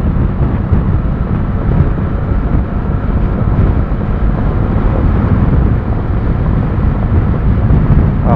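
Strong wind buffets the microphone while riding a Dominar 400 motorcycle, a constant, heavy low roar with gusty fluctuations throughout, with no voices heard.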